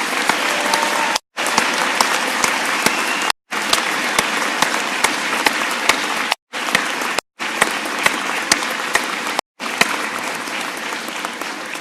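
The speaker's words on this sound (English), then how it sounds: "would you please join me in a round of applause for the entire staff here at Training Center Cape May" An audience at a Coast Guard training center graduation claps loudly and steadily for the staff, with several brief silent gaps between sustained bursts.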